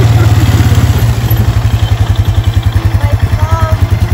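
A four-wheeler ATV engine runs close by with a steady, pulsing low putter, revving slightly as a beginner works the throttle, loud and continuous with no speech over it.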